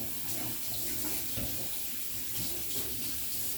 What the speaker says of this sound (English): I'm just gonna rinse the parts